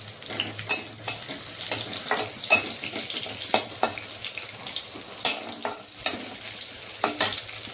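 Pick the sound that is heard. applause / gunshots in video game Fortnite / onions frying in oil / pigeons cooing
onions frying in oil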